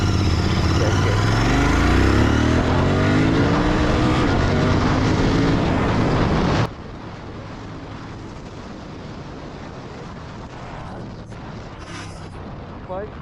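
Royal Enfield Continental GT650 motorcycle accelerating hard in first gear, a loud rising engine roar with a sweeping pitch climb that drops off abruptly to a quieter, rougher running sound as riding continues.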